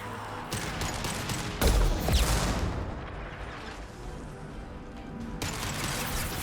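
An impact shot fires in the sci-fi shooter Mass Effect 2, amid a burst of rapid gunfire and a heavy booming blast, then a rumbling decay under ongoing battle noise.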